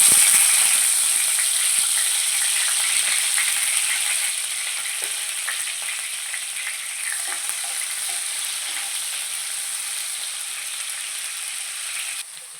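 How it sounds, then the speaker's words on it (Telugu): Dried shrimp frying in hot oil in a pan, a steady close sizzle and crackle that runs throughout, a little stronger at the start, with no voices. "ఆయిల్ వేడెక్కిన తర్వాత ఎండ్రాయిలు ఫ్రై చేసుకోవాలండి"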